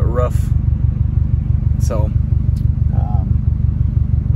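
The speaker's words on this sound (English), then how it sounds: "Love the exhaust, sounds really good." Subaru STI idling with a new Magnaflow stainless steel catback exhaust, a steady low rumbling drone throughout, close and loud, with a voice speaking briefly over it.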